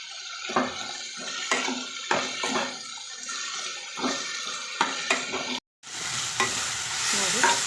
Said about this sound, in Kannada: ಚಕ್ಕೆ ಇದನ್ನು ಕೂಡ ಇಲ್ಲಿ ಆ್ಯಡ್ ಮಾಡ್ಕೊತಾ ಇದ್ದೀನಿ ನೀಟಾಗಿ ಫ್ರೈ ಮಾಡ್ಕೊಳ್ಳೋಣ ಇವಾಗ